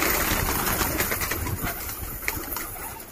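A busy flutter of many wings and rustling on a rooftop, with a steady engine-like rumble underneath, as a flock of pigeons is released and takes off together.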